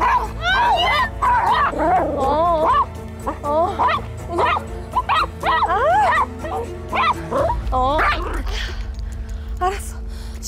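A dog close by whimpers in rising, wavering whines and lets out sharp yips and barks at other dogs, in repeated bursts with short pauses, while people talk.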